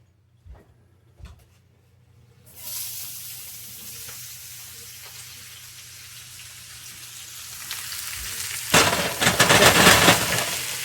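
Turkey burgers hit hot oil with a steady crackling sizzle after a few soft knocks, frying gently for several seconds before the spattering swells louder and harsher near the end.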